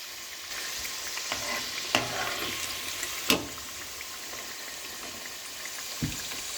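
Chicken pieces frying in oil on a stove over medium-low heat for chicken manchurian, a soft continuous sizzle with a few sharp clinks and knocks from the pan.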